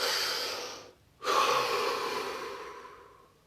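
A deep breath drawn during a guided relaxation exercise: an airy, close inhalation that breaks off in a brief pause, then returns as a long, steady rush of breath.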